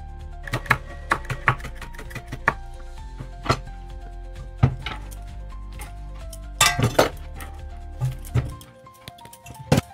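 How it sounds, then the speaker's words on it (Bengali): Knife chopping bottle gourd peel into thin strips on a board, a series of sharp irregular taps and clinks in quick bursts, close and clear, ending in a brief quiet. "এভাবে সরু করে কেটে নেব সবগুলো।"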